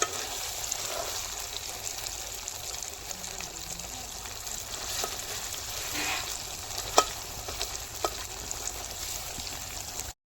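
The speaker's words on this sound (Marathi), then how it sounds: "आता थोडासा मसाला टाकून भाजी करून घेते लगेच." Masala and vegetables frying in a pan in a home kitchen, a steady close hiss of sizzling with a few soft clinks of stirring, no talk.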